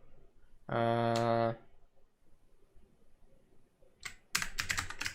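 Quick keystrokes on a computer keyboard as Python code is typed, a short burst of clicks near the end following a long steady tone and a quiet gap.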